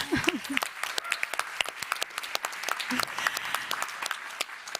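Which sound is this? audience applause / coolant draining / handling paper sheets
audience applause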